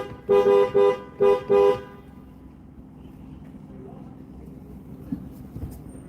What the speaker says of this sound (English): They're making the noise, boys, they're on the horns.